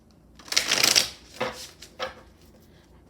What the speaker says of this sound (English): I'll pull more cards for monthly energies